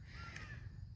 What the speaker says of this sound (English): the racket of all these crows making a lot of noise over here